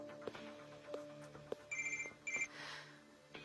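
A telephone rings indoors, two short bursts of a bright electronic trill, preceded by scattered knocks and soft movement, all fairly quiet and without speech.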